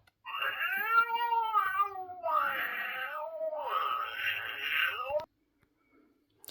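A Halloween black cat animatronic toy, a sound-activated knockoff of a Tekky Toys design, plays three loud drawn-out electronic meows through a loudspeaker, one after another with no pauses, before cutting to silence.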